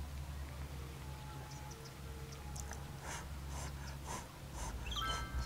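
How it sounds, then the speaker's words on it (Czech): Someone blows through into a half-full glass of water for an ASMR-style sound: soft, breathy bubbling bursts come in a cluster midway, quiet and close over a low steady background hum. "Tohle je zvuk, jak foukám do půl plný sklenice s vodou."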